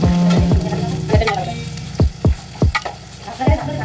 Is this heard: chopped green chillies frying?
yes